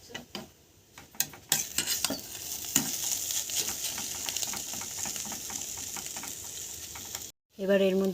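Spatula stirring through a hot pan as fried egg is mixed into sizzling chow mein, with irregular scraping clicks over a steady frying hiss, ending in a brief pause before a louder burst.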